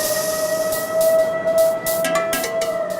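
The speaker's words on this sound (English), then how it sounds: "They always sound a siren when something big and hot is being moved in the mill." A warning siren wails inside a steel mill while hot steel is moved, a sustained pitched tone over a rumbling industrial background, punctuated by bursts of hissing noise.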